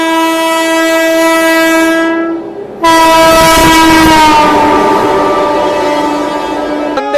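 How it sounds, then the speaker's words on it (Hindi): The Howrah Rajdhani Express, hauled by a Howrah shed WAP-7 electric locomotive, sounds a long loud multi-tone horn, pauses briefly, then blasts again as it rushes past with rumbling wheels. "हावड़ा शेड के वेब 7 के साथ हावड़ा राजधानी"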